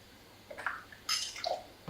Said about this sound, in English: Next, add a full ounce of lemon juice.